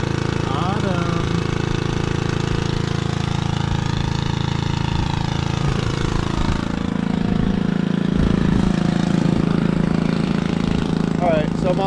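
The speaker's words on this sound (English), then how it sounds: "I just got, you know, our gas-powered transfer pump" A gas-powered water transfer pump engine runs at a steady, throbbing drone at an off-grid camper, close and loud throughout, with muffled voices faintly underneath at times.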